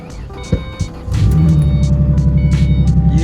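2005 Ford car engine started with a reprogrammed key: two soft clicks, then the starter catches and the engine roars up and settles into a loud, steady, throbbing idle close by.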